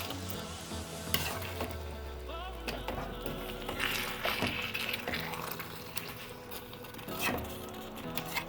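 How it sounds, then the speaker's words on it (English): Spaghetti being stirred in a pot beside a simmering tomato sauce, with scraping utensil clatter and soft liquid sizzle, close and moderately quiet, with no talk. "you want to stir your pasta because you don't want them to stick"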